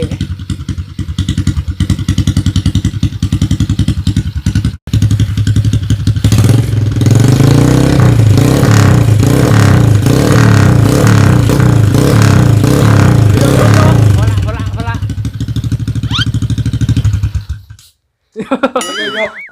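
A 125cc motorcycle engine warming up close by after a fresh build, running loud with a rough, pulsing idle and several blips of revving, briefly cutting out before settling and finally stopping; voices talk faintly in the background.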